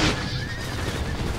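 A horse whinnies in a Napoleon: Total War battle, a single clear neigh that rises and wavers, with hoofbeats and battlefield rumble underneath.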